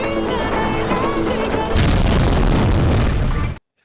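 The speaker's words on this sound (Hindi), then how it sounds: "टैक्सी में धमाका हुआ है" A bomb blast in a taxi at Bori Bunder, Mumbai, during the 2008 attacks: a loud, dense roaring boom that swells and stays heavy for about three and a half seconds, then cuts off abruptly into silence.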